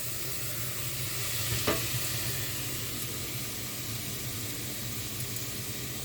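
Dry beans and other ingredients sauté in a pot on the stove, giving a steady, even sizzle and stir close by, with one brief scrape of a spoon partway through and no voices.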